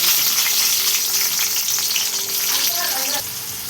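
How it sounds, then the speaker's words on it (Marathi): A tomato sizzles and fries in a hot kadhai, a steady, close, crackling hiss with light stirring scrapes; the sizzle drops slightly near the end. "कढाईमध्ये बघा एक टमाटो टाकलेला आहे"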